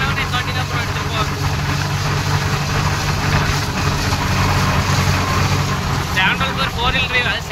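A Swaraj 963 FE tractor's diesel engine runs with a steady low rumble close by, while people talk over it throughout.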